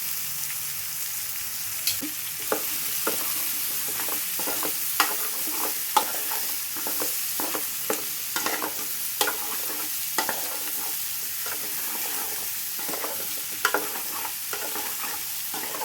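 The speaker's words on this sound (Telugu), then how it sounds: "ఇందులో కట్ చేసి కడిగిన ఆలు ముక్కలను వేసేస్తున్నాను" Cut, washed potato pieces sizzle in a pan of frying onion while a utensil stirs them, a steady crackling fry broken by repeated sharp scraping knocks, close and without talk.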